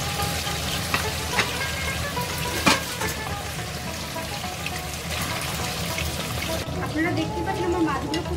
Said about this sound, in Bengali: আমি এবার এক এক করে মাছগুলো ভেজে তুলে নেব